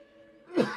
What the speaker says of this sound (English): And pause for a cough.